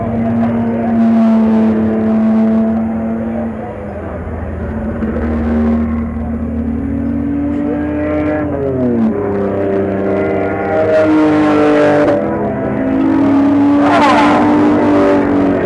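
Race car engine at Gingerman running close and loud, a droning idle rising and falling through several revs, with pitch sweeps and sharper bursts toward the end.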